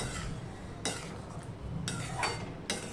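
A spoon scrapes and clinks against a pan while coriander leaves are stirred into gathi kochu curry, with faint, spaced knocks and soft scraping between them.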